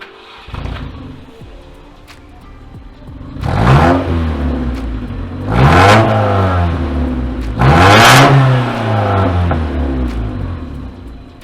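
Honda Civic EK with no exhaust fitted, idling rough and then revved hard three times, each loud rising rasp falling back to a lumpy idle, with no talk.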